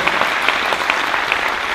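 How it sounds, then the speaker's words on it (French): A studio audience applauds the journalists on a panel. The clapping is dense and steady, a sustained wash of many hands, with no voices over it. "en applaudissant tous les journalistes qui ont accepté de faire ce soir"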